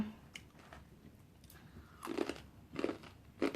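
Crisp food is chewed close to the microphone: soft crunches at first, then three loud, sharp bursts of crunching in quick succession near the end.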